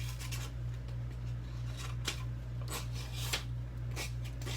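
A 440 stainless steel knife blade, a Kustom design, is test-cutting material. Several short, soft scraping slices stand out over a steady low hum, with no talking.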